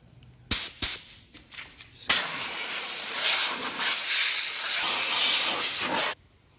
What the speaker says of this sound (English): So let's use the air compressor and just clean this out a little bit.